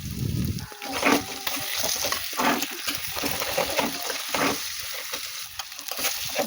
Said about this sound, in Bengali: দেখতে পাচ্ছ আমি ভালো করে ভেজে নিচ্ছি সবজিগুলো আর ডিমটা দিয়ে